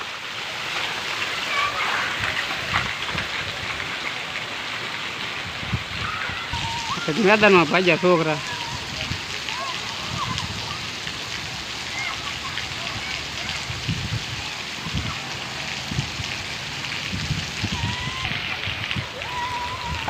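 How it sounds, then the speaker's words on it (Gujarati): Rain falls steadily over a village market street as children splash and play in the wet, with people talking and shouting over the constant patter. "વરસાદ ચાલુ છે"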